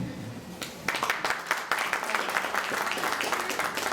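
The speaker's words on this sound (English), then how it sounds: "another round of applause for our distinguished honorees tonight, Dr. Edwards." Applause at an honors ceremony rises suddenly and continues as a dense, steady patter of many hands clapping in a hall.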